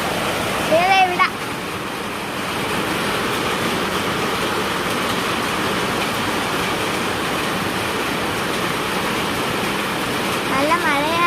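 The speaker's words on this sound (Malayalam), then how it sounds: "നല്ല മഴയുണ്ട്, കാണിച്ചു തരാം." Heavy rain pours down steadily in a broad, loud, continuous wash that lasts the whole stretch, with brief tonal sounds near the start and end.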